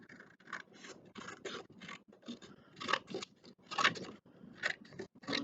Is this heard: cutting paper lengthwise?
yes